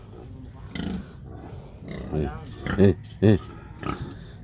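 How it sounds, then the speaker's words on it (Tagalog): Wild boars give a few rough grunts and squeals, two louder close calls in the middle, with a person speaking briefly nearby. "Mga baboy ramo yan."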